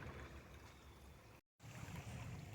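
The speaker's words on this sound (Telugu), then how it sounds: "చూసారా ఎంత బాగా ఫ్లో అవుతున్నాయి నీళ్ళు." Water rushes steadily along a stone-lined stream channel on a walking trail by a library and bridge, a dense continuous wash, close and fairly loud, broken by a short gap of silence midway.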